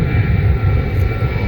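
A Jet2.com airliner departs at East Midlands Airport, its engines making a loud, steady, unbroken roar throughout, with no speech over it.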